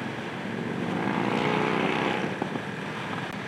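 A loud Harley-Davidson 750 motorcycle engine drones steadily, its rumble swelling slightly in the middle as it passes close, with a brief sharp click near the end.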